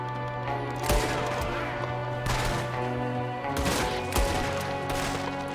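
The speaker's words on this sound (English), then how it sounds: "There's another one shooting from the window." Gunfire rattles in a Red Dead Redemption 2 shootout, several loud bursts of shots and sharp cracks spaced across the clip over a low steady hum, no speech.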